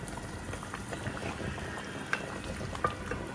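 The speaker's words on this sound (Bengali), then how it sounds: "আলুগুলো আস্তে আস্তে দিচ্ছে" Potatoes go into a pan of meat curry frying and bubbling on a home stove. A steady close simmer of sizzle and bubbling runs throughout, broken by a couple of small plops and clinks as pieces are added.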